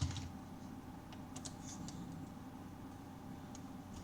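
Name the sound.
typing on a computer keyboard in notepad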